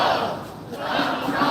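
A protest crowd chants against Tim Walz, a dense mass of many voices shouting together in a steady, continuous roar that carries from a short distance.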